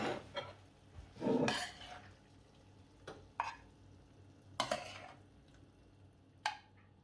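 Cooked shrimp in tomato sauce are moved from a pan into a dish: a series of scattered close clinks and scrapes of a utensil against metal and crockery, with quiet pauses between and no talk.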